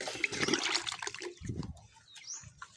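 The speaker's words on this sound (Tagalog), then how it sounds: "Lagyan natin ng tubig" Water poured into a homemade pig drinker, a close splashing gush that fades into trickles and faint drips.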